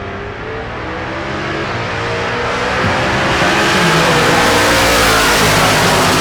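A pair of naturally aspirated drag race cars, one a black Fox body Mustang, launch at Tulsa Raceway Park, engines roaring loudly and rising steadily in pitch as they accelerate away.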